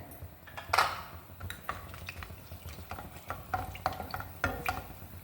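Whole garam masala, including cinnamon sticks and about ten cardamom pods, fries in groundnut oil for chicken biryani: a low, soft sizzle under scattered clinks and scrapes of a stirring spoon against the pan.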